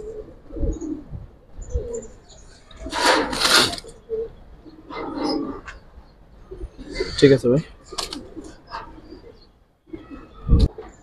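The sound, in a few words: Giribaz pigeons cooing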